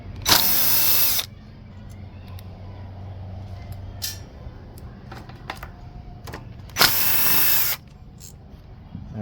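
Two short bursts of a power driver spinning a 1/4 inch socket to remove the ignition coil from a Briggs & Stratton engine, one at the start and one near the end, with faint clicks and handling noises between.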